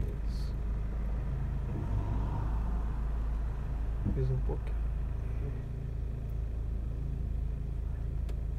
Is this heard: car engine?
yes